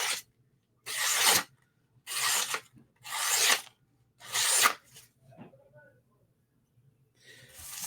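A Spyderco Sage knife with a REX 121 steel edge is drawn through material in a cutting test, giving five evenly spaced, close, raspy scraping strokes with near-silent pauses between them and a quieter stroke at the end.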